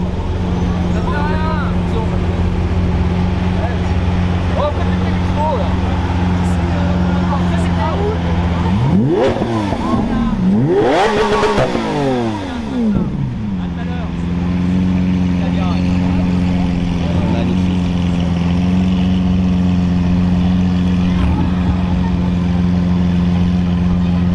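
A Lamborghini Aventador SV revs hard at a Lyon rally, its engine note climbing and falling in several sharp surges over a steady rumble of idling cars, with people talking throughout.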